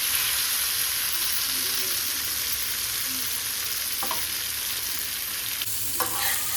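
Fish fries in a pan over medium heat, prepared Agri Koli style. A loud, steady hiss and crackle of oil carries throughout, with a couple of brief knocks of a utensil near the end.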